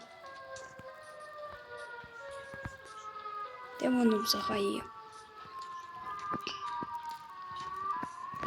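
A siren wails steadily in the background, slowly shifting pitch, while a person speaks briefly and some clattering noises pass midway.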